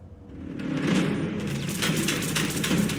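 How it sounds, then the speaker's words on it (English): Space AK energy and ballistic rifle firing in Star Citizen: a rapid, dense burst of booming shots with crackling bursts layered over a low rumble, loud and continuous for a few seconds. "It's a fun rifle that basically fires energy and ballistic in sequence."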